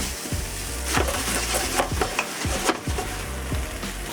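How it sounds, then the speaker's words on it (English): About 150 grams of ground meat browning in a frying pan with oil for Japanese-style mapo tofu, a constant close sizzle broken by repeated scraping strokes as the meat is broken up, no speech. "This is about 150 grams of meat. So we'll just break it up as we brown it."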